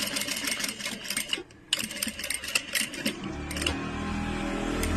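A sewing machine stitches a neck lining in rapid mechanical bursts, stopping briefly and restarting, close and fairly loud, with a low motor hum building toward the end.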